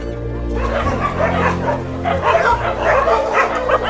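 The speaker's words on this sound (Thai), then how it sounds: "ตอนนี้กำลังจะเอาอาหารไปเลี้ยงน้องหมาแล้วค่ะ" Stray dogs at a large shelter holding over 700 dogs and cats bark and yip excitedly ahead of feeding time, with several animals calling in overlapping bursts at close range and some whimpering mixed in.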